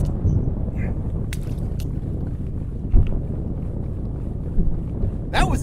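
Wind buffets the microphone on a boat while trolling for rainbow trout, a steady low rumble with a few soft thumps and gusts throughout.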